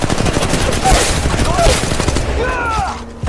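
Rapid automatic gunfire from an attacking squad in Apex Legends Mobile rattles out in close, dense bursts, with fainter weapon and effect sounds trailing off near the end.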